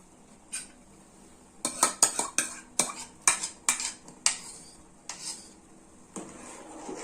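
A spoon clinks and scrapes against a pot while carrot paste is stirred into milk for carrot kheer, in a burst of quick metallic taps and scrapes with pauses between, close and fairly clear, with no talking.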